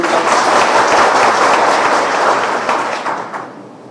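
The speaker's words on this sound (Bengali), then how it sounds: "আসিফ নজরুলের জন্য আমরা একটা জোরে হাততালি দিয়ে" Loud audience applause fills a hall after a speaker asks for a big round of clapping for Asif Nazrul at a public event, sustained dense clapping that slowly thins and fades toward the end.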